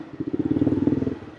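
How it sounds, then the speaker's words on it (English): A motorcycle engine putters close by on a Thai street, its rapid, even low pulses running steadily through a brief pass. "I got hit by a motorcycle just now."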